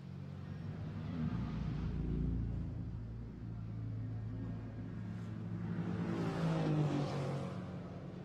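GT4 race car heading downhill at Imola circuit during qualifying: the engine rumbles and rises as it accelerates, fading slightly before swelling louder again as the car passes closer.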